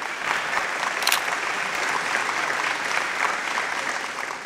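A crowd at a public event gives steady, loud applause, a dense wash of many hands clapping that holds evenly throughout with no speech over it.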